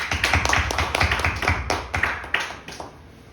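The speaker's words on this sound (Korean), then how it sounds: "박수 쳐드려요." A church congregation applauds during a Sunday sermon: a short, fairly loud run of clapping hands that starts dense and thins out toward the end, with no words spoken over it.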